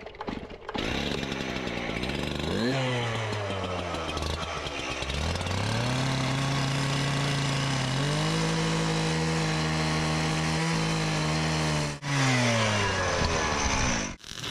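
A power tool, likely a grinder or saw, cuts through thick metal outdoors ahead of welding, a loud continuous whine that rises and falls in pitch as the blade loads and unloads, steady for most of the stretch.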